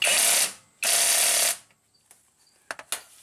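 Bolt being run down with a ratchet to press a harmonic balancer onto a Hemi engine during a timing repair: two long loud bursts of rapid clicking, then a few faint sharp metallic ticks, no talk.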